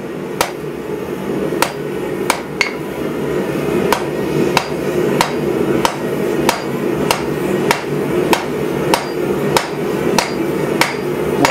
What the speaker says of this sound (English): give it a couple more random hammer marks